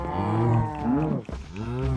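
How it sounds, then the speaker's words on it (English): Minecraft cow mooing from inside a wheat farm: two drawn-out, harmonic moos, the first longer and the second after a brief break, loud and close with no talk over them. "How did a cow get in the wheat farm?"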